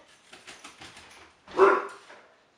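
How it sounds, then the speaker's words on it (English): Dogs in a home bark at someone outside: a run of muffled yips and barks, then one louder, closer bark that fades away. "I also have dogs. So just don't mind them."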